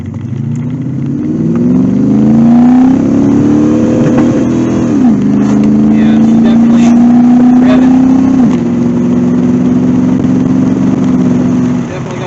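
A Chevrolet Corvette C4 with a carburetor swap accelerates hard from first gear, its engine note climbing loudly in pitch, dropping at two shifts and climbing again, close and continuous for the whole stretch.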